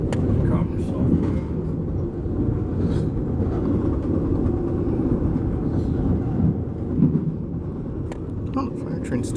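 Two harbor trains pass back to back near a rail crossing, heard from a moving private railcar as a loud, steady low rumble and roar with faint clanks on top, and people talking beneath.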